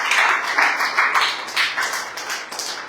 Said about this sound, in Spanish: Dale fuerte el aplauso al Rey si tú lo crees